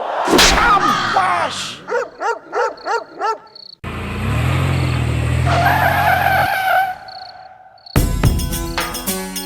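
A car brakes hard and its tyres skid in a long, loud screech lasting several seconds, preceded by a series of short barking-like bursts and followed by abrupt clattering noise.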